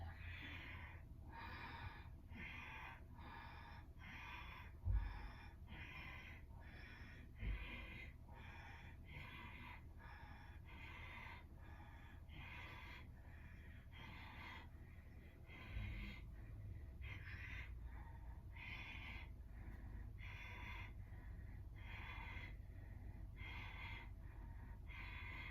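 Rhythmic forceful breathing from a kundalini yoga breathing exercise, quick sharp breaths repeating evenly for the whole stretch, close and clear with no talking.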